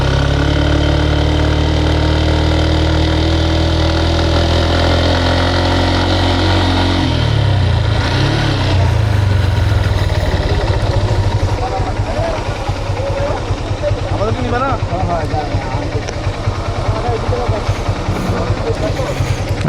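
A motorcycle engine idles and revs with a steady low throb, then drops and climbs again through a gear shift, loud and close, with a voice talking over the engine noise outdoors.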